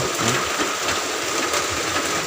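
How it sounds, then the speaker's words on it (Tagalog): Heavy rain pours down in a dense, loud, continuous hiss with no pauses, heard near a workshop where a speaker divider box is being built. "lakas ng ulan"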